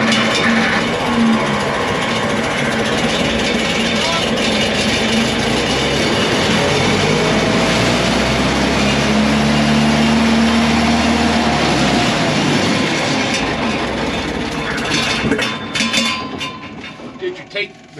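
Engine of a 1945 WW2 GMC 6x6 truck carrying a Bantam T35 crane, revved loud and steady with the throttle wide open, a continuous heavy mechanical roar that fades out with a few pops near the end.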